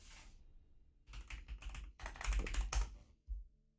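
Bursts of typing on a computer keyboard while entering a search for the game Tromblon: clustered quick key taps in short runs with brief pauses, close and fairly quiet, no talking.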